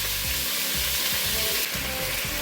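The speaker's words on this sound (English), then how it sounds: "Alright, we got our meat searing." Beef searing in a pot for a beef vegetable soup, a loud continuous sizzle and hiss with rhythmic scraping stir strokes underneath, close up and without talk.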